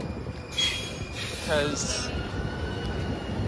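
A train rolls past at a street crossing at C Street and Eleventh Avenue, a steady rumble with a sharp metallic wheel squeal rising midway, close and loud, with someone talking briefly over it.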